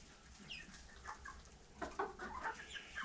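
Chickens and roosters cluck faintly at a distance, with scattered short calls that grow busier toward the end over a quiet outdoor background.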